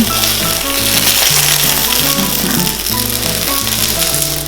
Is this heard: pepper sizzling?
yes